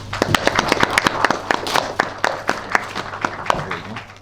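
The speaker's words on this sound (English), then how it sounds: "We will clap our hands." A crowd at a Congress party political gathering in Meghalaya claps in a fairly regular rhythm, distinct sharp hand claps repeating about every quarter second over a light background murmur.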